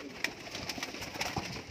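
Lakha slaty (grey) pigeons cooing in a flock, soft repeated coos and faint bird calls layered over steady ambient noise, fairly close and moderately quiet.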